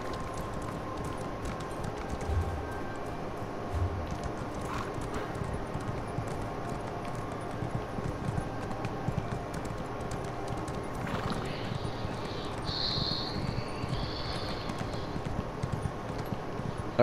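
A horse's hooves clip-clop steadily and continuously in the Elder Scrolls Online video game, a constant galloping rhythm under faint game ambience, with no clear talking.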